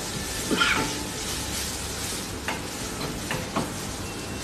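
Market vegetables for a Goan-style xacuti sizzling in a pan as vinegar cooks off, a steady hiss with a few clinks and stirring scrapes, close up and without talk.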